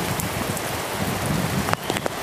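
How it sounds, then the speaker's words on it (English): Heavy rain pours steadily in Portobello, Panama, as a dense, loud hiss, with a few sharper drips and splashes standing out near the end. "Well, can't see too much more with this rain."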